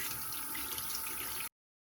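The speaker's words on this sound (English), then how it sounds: "we're gonna go ahead and rinse this one." Etched glass rinsed under a running faucet: a steady hiss of flowing tap water splashing for about a second and a half, then cut off to silence.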